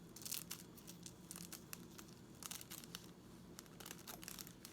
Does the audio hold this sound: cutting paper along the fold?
yes